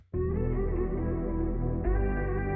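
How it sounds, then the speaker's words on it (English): Sung or sustained voice heavily processed with compression, chorus and distortion effects in a pop beat production, a dense, steady, effected tone holding for a couple of seconds with a brief swell near the end. "after all the compression and chorus and distortion, this is really going to make it sound like an affected voice"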